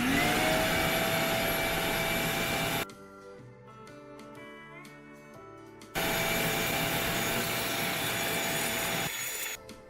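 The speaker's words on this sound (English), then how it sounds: "now I'm going to run around with a vacuum cleaner" Vacuum cleaner sucking up dust from drilled holes in concrete, a loud high-pitched whine running steadily, dropping away for a few seconds of quieter tapping and rattling, then roaring back up before trailing off.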